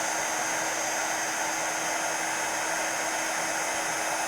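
A heat tool drying and heat-setting paste on a mixed media artist trading card blows with a steady, loud, unbroken roar of rushing air from start to finish, with no talking.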